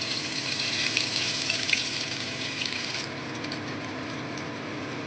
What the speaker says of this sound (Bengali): এবারে আমরা তেলের মধ্যে কিছুটা পরিমাণে ধনে জিরে বাটা দিয়ে দিলাম